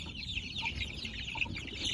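A chicken clucks steadily while chasing ducks around a farmyard with cows nearby, a busy run of close, moderately loud clucks and short calls with no talking.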